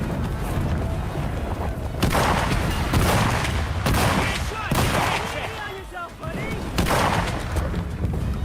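Tank cannons fire in a World War II tank-game tournament match that includes a Panzer IV F1: a run of loud, sharp blasts roughly every second with rolling echoes over battle noise, and commentary voices appear faintly.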